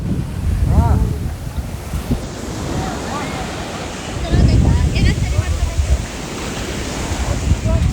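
Ocean surf rolls and crashes at Butterfly Beach near Agonda in Goa, loud and close, with heavy wind buffeting the microphone and swelling surges of breaking waves.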